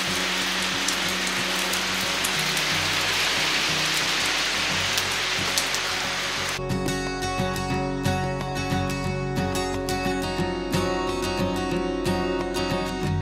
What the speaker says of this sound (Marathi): पाऊस थांबण्याचं नावच घेत नव्हता.